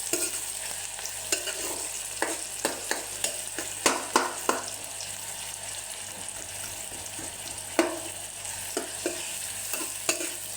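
Onion with garlic-ginger paste fries in a kadai, a steady close sizzle with repeated scraping and clinking of a stirring spoon against the pan, no voices.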